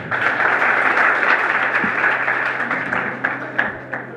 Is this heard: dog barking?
no